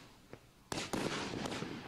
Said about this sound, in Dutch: je hebt hier natuurlijk deze knalbatterij. En dat is met 64 shotjes